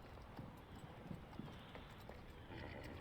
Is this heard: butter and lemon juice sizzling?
no